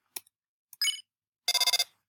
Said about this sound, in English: The phone is ringing, but you can't get it.